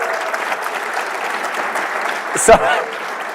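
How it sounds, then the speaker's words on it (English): Applause at a convention for an audience member standing up: a steady wash of clapping from a crowd throughout, with a brief sharper knock near the end. "A round of applause for Peggy."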